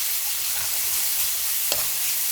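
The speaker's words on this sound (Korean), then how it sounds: "마늘 향이 올라, 올라올 때까지 살짝 볶아줄 거예요. 중약불로 볶아보세요." Steady soft sizzling of garlic stir-frying in a pan over medium-low heat, with a brief stir or scrape partway through; no talking.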